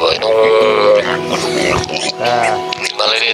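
Pigs grunt and squeal loudly up close, harsh rasping calls coming in several bursts, with a person talking amid the noise.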